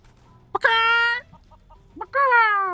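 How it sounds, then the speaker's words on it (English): Two loud, close chicken squawks from the Divinity Original Sin 2 video game, each a sharp rising cry with a pause between, over near silence. "Chicken attack!"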